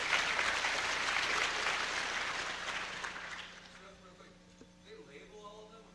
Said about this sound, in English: Applaud for the man.